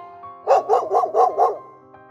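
Five quick, evenly spaced barks from a free-roaming male dog in the snowy winter village of Baihaba, Xinjiang, loud and close, with no voices between them.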